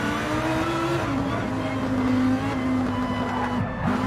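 A Lamborghini race car in a sim racing game at the Nürburgring GP circuit, its engine and exhaust droning loud and continuous, with pitch shifting as it brakes and downshifts.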